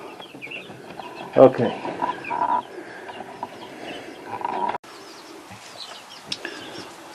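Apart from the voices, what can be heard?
roosters and chickens clucking in a coop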